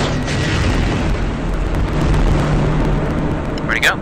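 A loud, rumbling rocket explosion in the video game Half-Life, a sustained roaring blast with noisy debris that fades toward the end, broken by a brief sharp chirp near the close.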